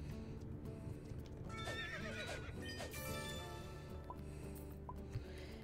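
A horse in the Roblox game Horse Life neighs and whinnies over a steady bed of clip-clopping hooves and ambient game sound, with no one talking.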